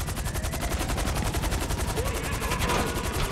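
Sustained, rapid automatic gunfire in the video game GTA 5, with dense overlapping shots from several weapons hammering continuously at close range and steady loudness throughout.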